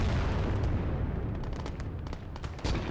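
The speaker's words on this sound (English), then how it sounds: "2d4 cooks off in the background." Tank ammunition cooking off in Gates of Hell: a dense, rumbling series of booms and crackling blasts, sustained and heavy, ending in a sharper burst.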